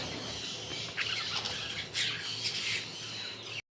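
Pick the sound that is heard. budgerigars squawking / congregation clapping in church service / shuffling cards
budgerigars squawking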